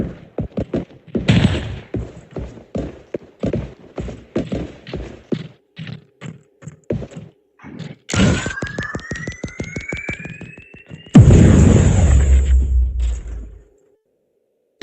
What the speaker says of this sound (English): I gotta use all the grenades